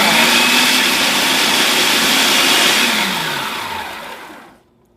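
A kitchen blender pulses whole almonds into almond flour, a loud whirring motor grind that holds steady, then winds down and cuts off near the end.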